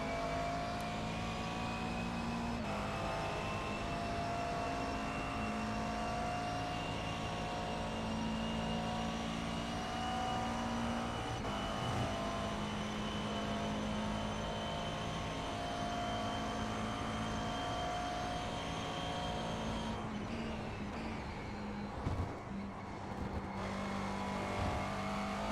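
Steady engine drone of a McLaren race car in a racing video game, a sustained tonal whine holding at constant revs for the whole stretch, moderately quiet and continuous, with a slight disturbance near the end.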